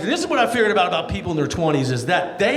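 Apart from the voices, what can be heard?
No everyday noise stands out behind the speech.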